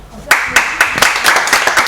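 A crowd applauds, with a handful of distinct claps building quickly into steady, close clapping.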